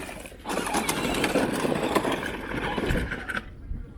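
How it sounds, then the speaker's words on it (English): A tractor engine revs steadily as the machine drives through a muddy, water-filled hole, a loud continuous rumble with splashing churn that cuts off abruptly near the end. "Drive your tractor through it."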